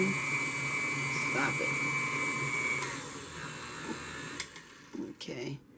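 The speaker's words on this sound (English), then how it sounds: "I'm getting ready to stop my mixer." Electric stand mixer creaming butter and sugar for a 7-Up pound cake, a steady motor whir that cuts out partway through, followed by a few clunks, with someone talking over it.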